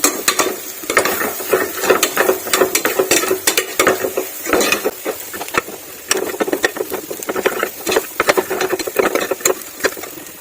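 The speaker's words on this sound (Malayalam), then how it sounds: "ഈ മുളക് പൊടിയിൽ പച്ചച്ചോയ നല്ലോണം മാറണം. വേറെ നന്നായിട്ടൊന്ന് മൂത്ത് വരുന്നവരെ നന്നായിട്ട് ഇളക്കി കൊടുക്കുക." Chili powder masala is stirred in a hot pan, with a spatula scraping and knocking steadily over a constant close sizzle and no talk.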